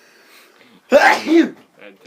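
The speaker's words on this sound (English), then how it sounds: "I'm probably gonna be sneezing till the end of this video." A sudden sneeze-like burst, close and fairly loud, breaks in after a few quiet spoken words and trails off into a throat-clearing sound, with faint talk at the start.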